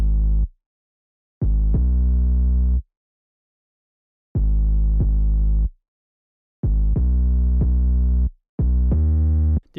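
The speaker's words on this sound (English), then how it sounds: "I added the bass. It was like a sub bass," Sub bass line from an FL Studio R&B/dancehall beat with low end cut below 30 Hz, deep sustained tones playing in rhythmic bursts separated by silences, loud and alone.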